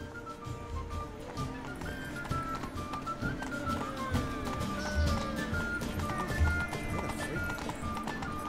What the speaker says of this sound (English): Now I'm gonna take my horse.